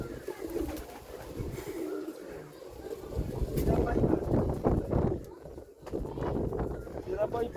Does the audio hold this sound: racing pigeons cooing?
yes